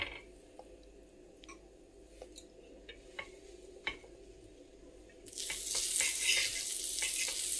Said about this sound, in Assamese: ধুনীয়াকৈ মই বাটাৰ দি ভাজি লৈছোঁ